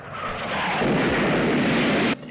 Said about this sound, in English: Just the fucking explosion is just right there, just war around you